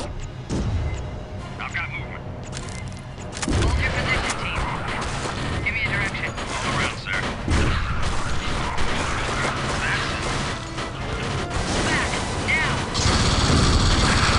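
Gunfire and clanking action in the shooter AVP2 as a Colonial Marine, a dense, loud barrage of shots and mechanical clatter that runs throughout under a voice.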